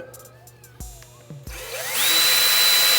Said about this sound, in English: When drilling through metal, it's best to always start in a lower gear and just be patient